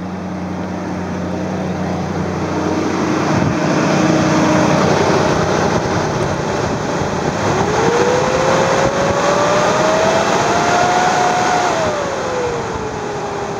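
A car engine's cooling fan keeps roaring loudly and steadily because its worn fan clutch will not disengage, with a whooshing drone and a rising, sweeping tone partway through.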